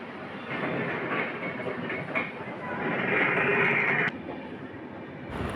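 NJP to Howrah Shatabdi Express passing through Bolpur station, heard from on board as a continuous rolling rumble with rhythmic wheel clatter that swells louder midway and then drops, with faint voices in the carriage.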